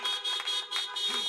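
Car horns honk at a 2020 drive-in high school graduation, several overlapping beeps and toots from a group of cars in a steady, loud cluster.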